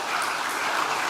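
A crowd applauds in a brief, continuous burst of many hands clapping, an even hiss of sound lasting about a second.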